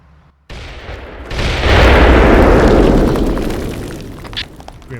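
A loud explosion in the military shooter Arma 3, a sudden thump followed by a big rolling blast that swells, holds for a couple of seconds and slowly decays with scattered debris crackle at the end.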